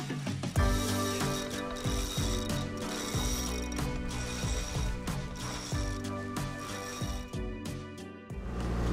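A sailboat winch ratchets rapidly as a sail is hoisted, a fast rhythmic run of sharp metallic clicks in uneven bursts, close and clear with no talk.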